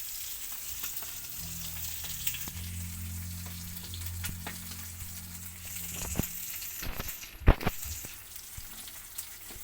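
Breakfast fries in a pan on a farm, a soft steady sizzle with scattered crackles and pops, a few louder spatters and clatters near the end, no voices.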